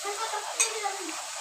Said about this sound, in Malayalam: മാവ് മുക്കി ഈ തിളച്ച എണ്ണയിലോട്ട് ഇങ്ങനെ ഇട്ട് കൊടുക്കാം